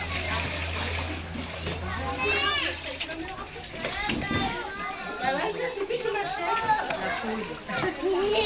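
Water splashes and trickles repeatedly as toddlers in a crèche fill and empty containers, with children's voices chattering and calling throughout.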